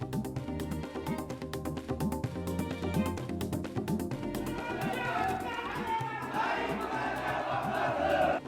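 Crowd of Maratha protesters gathered in Mumbai, a dense mass of overlapping voices and shouts with a steady rumble of chatter, growing busier and louder toward the end.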